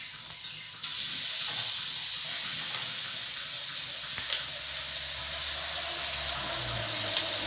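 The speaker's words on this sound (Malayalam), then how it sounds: "നമ്മളിവിടെ വെള്ളം തിളയ്ക്കുന്നുണ്ട്" Water heating in a cooking pot in a home kitchen while chicken kabsa is being made, a steady hissing, bubbling wash with a faint clink partway through.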